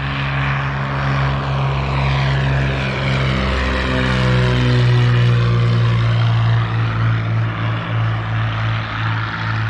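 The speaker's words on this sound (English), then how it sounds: "Behind me are airplanes taking off and landing" A propeller airplane takes off from an airport, its engine droning loud and steady with a deep harmonic hum that rises slightly in pitch over ten seconds, with no talk over it.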